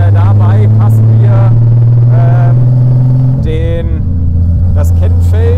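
VW Golf engine held at steady revs with no load on a dyno-style tuning run, a loud continuous low drone that shifts pitch partway through, with voices talking over it.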